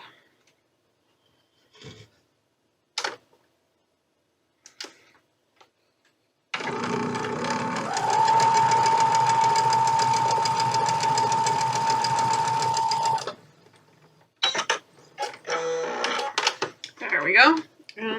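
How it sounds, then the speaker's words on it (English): A home sewing machine runs in one steady continuous burst of about six seconds, stitching quilt fabric pieces, with short bits of handling noise and rustling before and after. "So let's sew this one up."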